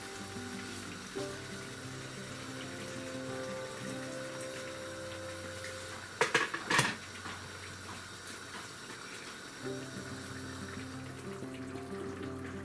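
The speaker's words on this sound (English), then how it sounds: "You put a little bit of water." Water splashes briefly into a pan of sautéing chayote and carrot, a short loud burst of sizzle and hiss rising over the steady background frying crackle, then settling back to a quieter simmer.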